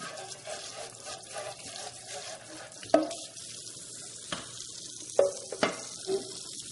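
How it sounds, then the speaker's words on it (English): Juicing containers are rinsed under running water in a sink, with a soft hiss of flow broken by scattered knocks and clatters as the pieces are handled, close and fairly quiet. "Rinse everything off. And then, of course, you can rinse the juicing containers."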